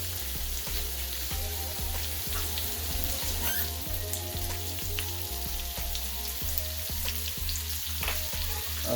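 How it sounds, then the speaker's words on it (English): Garlic butter shrimp fry in a frying pan with a steady, loud, close sizzle that never lets up, sputtering and crackling throughout with no voices. "just put everything in the frying pan, and it should be good to go in a few more minutes"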